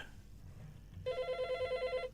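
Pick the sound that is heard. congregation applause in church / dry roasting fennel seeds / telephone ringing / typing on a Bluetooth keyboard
telephone ringing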